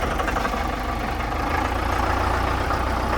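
A John Deere tractor carrying ballast and an edge cutter on the back idles nearby with a steady, loud, low engine drone and no voices.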